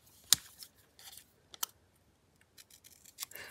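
Scissors trim oversized craft pieces in a few close, crisp snips with short gaps between them, without any talking.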